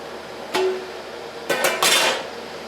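Short metallic clinks and scrapes of a metal canning ring screwed fingertip-tight onto a glass canning jar, three quick bursts close by with a pause between.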